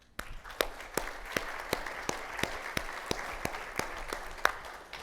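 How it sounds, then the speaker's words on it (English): A small audience gives a round of applause for two guests at a community talk, sparse and fairly faint clapping with distinct individual claps in an irregular rhythm. "join me in giving them a round of applause, please"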